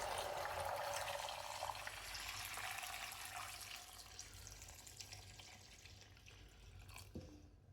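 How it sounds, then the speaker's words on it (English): Stock pours from a pot into a spicy Korean chicken stew, a faint, steady splashing trickle of liquid that slowly softens, ending with a light clink. "all I do after that is that lovely stock we had bubbling away for 45 minutes"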